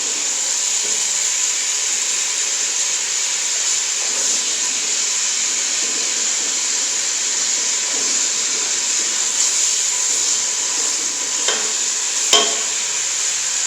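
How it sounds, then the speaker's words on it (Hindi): Chopped onions fry in oil in a pan for an arbi baingan curry, giving a steady, loud sizzling hiss with occasional soft scrapes and clinks from stirring, and no voices. "दो से 3 मिनट तक इसको फ्राई करते हैं"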